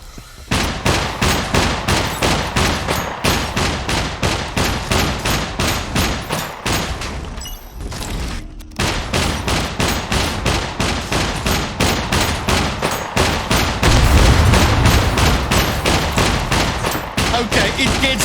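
Rapid, loud gunfire at a sentry in the video game Scum, a long run of evenly spaced shots that pauses briefly near the middle and then keeps going. No one talks over it.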